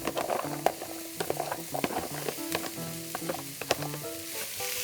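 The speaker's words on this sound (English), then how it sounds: "We got our green peppers, onions, and celery. Okay, and that goes into the roux." Green peppers, onions and celery sizzle in a roux in a cast iron skillet, a steady close frying hiss broken by the clicks and scrapes of stirring, with no voices.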